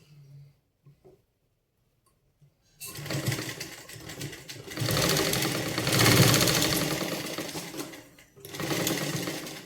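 A sewing machine stitches a slanted shoulder seam on a blouse, running in close, loud bursts of rapid whirring after a few quiet seconds of faint handling noise.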